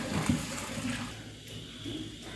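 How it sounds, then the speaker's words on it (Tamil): Tamarind water poured into sautéed masala for pepper rasam, a soft close liquid splash and trickle with a low gurgle that fades to a quieter sizzle-like hiss. "புளி தண்ணி விட்டு நல்லா லூஸ் பண்ணிடுறேன்."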